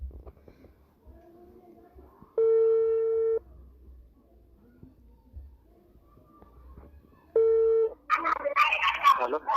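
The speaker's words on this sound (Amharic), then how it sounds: "እየጠራ ነው።" A telephone ringback tone plays while a call is placed: two separate long steady tone bursts with quiet gaps and faint background noise, followed by a burst of louder noise at the end.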